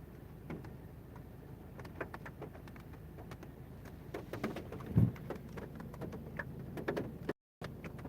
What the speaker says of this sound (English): Yep, it is raining. It's raining a lot here lately.